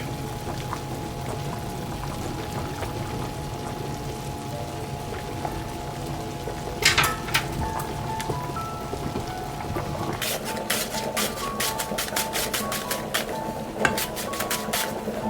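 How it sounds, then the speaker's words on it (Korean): Beef shank simmers in a pot of water over medium-low heat, giving a steady, close, bubbling wash with brief sharper ticks and pops that grow busier toward the end; no one speaks. "가롱사태를 넣어서 끓여줍니다"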